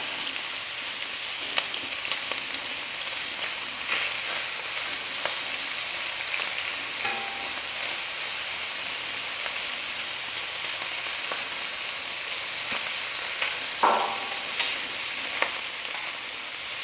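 Polish sausage frying on a Camp Chef FTG600 griddle, a steady close sizzle and hiss with occasional light scrapes and clicks of a utensil, no talking.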